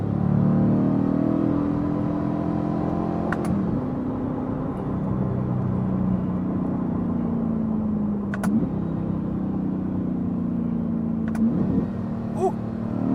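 A C8 Corvette's engine roars loudly and steadily, its pitch climbing under acceleration and then dropping sharply at several quick gear shifts, each marked by a brief crack, with the rumble resuming after every change.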